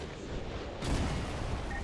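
Heavy artillery fire in the video game Modern Warfare 2: a muffled low boom lands just under a second in, followed by a sustained rumbling roll of distant bombardment.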